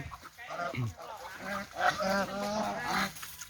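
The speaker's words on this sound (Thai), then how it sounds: "อู้ยห่านก็หลายครับ" Geese honk repeatedly in a noisy chorus, nasal calls overlapping close by, with a voice faintly mixed in.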